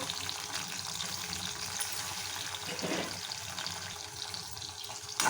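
Green chilies, coriander seeds and cumin frying in a pan, a continuous dense sizzle and crackle with faint stirring, steady and close throughout, ending in a brief louder clatter.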